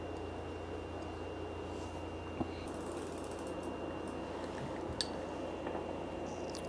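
A 15mm wrench works a pedal loose on a Magicycle Jaguarundi folding electric bike, giving faint, soft ratcheting clicks and a couple of sharper ticks against low steady background noise.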